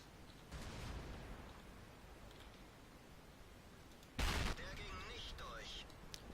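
Tank cannon fire in World of Tanks: one sharp, loud blast booms out partway through, after a fainter earlier shot, over a low battle rumble with some speech present.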